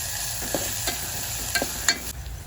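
Onion frying in a pan after green garlic, with a steady sizzle under repeated scraping and stirring strokes of a utensil, close and moderately loud.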